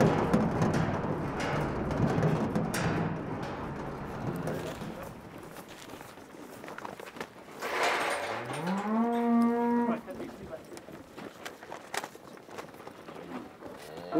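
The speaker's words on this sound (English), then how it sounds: "We're sorting out the mama cows." Cattle on a Navajo ranch low during the sorting of mother cows from calves, with one loud, drawn-out moo standing out over a noisy background of shuffling hooves and distant bawling.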